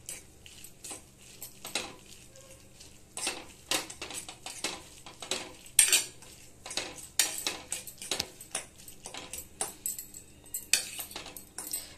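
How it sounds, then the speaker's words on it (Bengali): A spoon stirs a Maggi chop mixture with chillies in a pan, giving irregular close metallic scrapes and clinks in quick bursts, fairly quiet, with no voices. "এবার ভালোভাবে নেড়ে নেব।"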